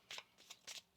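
A deck of tarot cards being shuffled in three quick riffling bursts, close and fairly quiet, with no talk over it.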